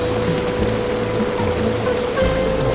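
Rushing floodwater surges in a continuous, loud wash around Noah's ark in a biblical radio drama about the Flood, with heavy low churning and a steady roar throughout.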